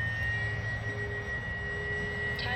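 An X-Fly Twin Otter 1800mm RC plane flies overhead before landing, its electric motors giving a steady high whine over a low rumble of wind, fairly distant and constant, no talk.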